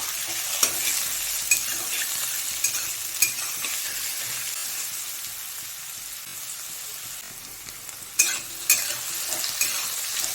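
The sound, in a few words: potatoes frying in oil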